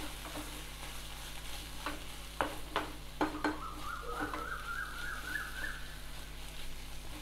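Fenugreek leaf fry with sesame powder is stirred in a pan, giving soft quiet sizzling broken by a few distinct spatula scrapes and taps, faint and close.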